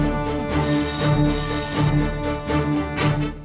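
A telephone rings repeatedly on an outgoing call in a dubbed Hindi action film scene, loud steady trilling bursts with brief gaps, heard alone without talk.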